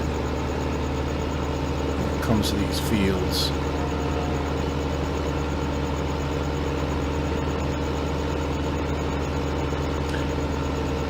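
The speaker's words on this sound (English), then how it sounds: "this tractor has about 20 more horsepower" A tractor engine idles steadily in a farming simulator game, a constant low drone running through the whole stretch while someone talks over it.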